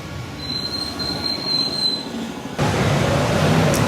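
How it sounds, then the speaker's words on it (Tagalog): LRT light rail train wheels give a high, sustained metallic squeal over a low rolling rumble, then the rumble suddenly grows louder and harsher as the squeal fades. "Sa LRT na tayo."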